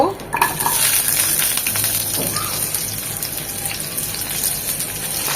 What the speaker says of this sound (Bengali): সিমটা আর আলুটা এই তেলেই হালকা করে একটু ভেজে নেব